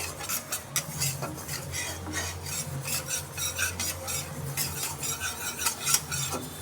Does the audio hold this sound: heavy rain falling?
no